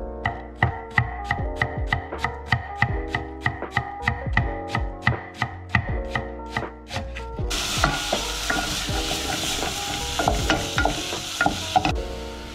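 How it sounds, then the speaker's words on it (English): A knife finely dices white onion on a board in quick, even, close chops, around twenty in a row. Partway through, a broad hiss like frying or running water comes in under the last chops. "So we are finely dicing some white onion"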